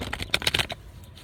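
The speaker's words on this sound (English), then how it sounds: "I have to shuffle until I feel like it's the time" A deck of cards is shuffled in a quick close burst of papery riffling clicks lasting about half a second, then stops, leaving quiet room tone.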